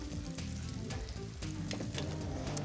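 Ahi tuna sears in a hot pan, a dense, steady sizzle with crackling spatters popping throughout, close and fairly loud with no voices.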